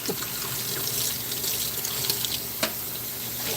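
Tap water runs steadily into a sink as paper Dixie cups are washed under it, with a continuous close splash and a few light knocks.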